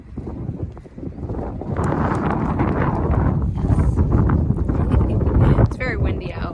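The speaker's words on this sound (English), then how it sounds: "It's very windy out." Strong wind blows across a park, roaring steadily as noise on the microphone and building louder toward the end, with a few brief bumps over it.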